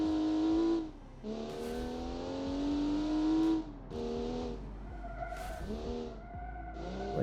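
A 1987 hot hatchback with an inline-six engine and no ABS, its brakes locking readily, gives loud sustained tire squeals that bend in pitch across several skids, with engine noise between them and no talk.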